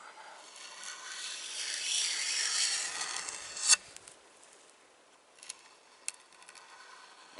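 Varnish being stripped from a wooden axe or hatchet handle, a steady close scraping and rubbing that swells then fades, followed by a few sharp ticks and clicks of the tool against the wood.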